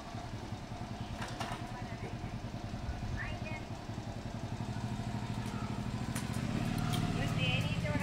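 A motorcycle rides past on a road near a house in Olavakkode, its engine note rising steadily and growing louder over several seconds, mixed with clatter and background speech.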